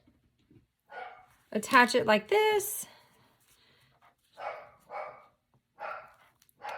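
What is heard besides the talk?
dog barking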